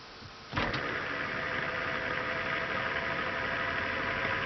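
A small Bedini SSG pulse motor with its timing set well in advance kicks on after a brief quiet moment, then holds a steady, dense mechanical whir with a faint rhythmic buzz throughout.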